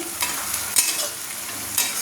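Sliced onions fry in a pan for mutton kosha and are stirred with a spatula, giving a steady sizzle broken by a few sharp scraping strokes.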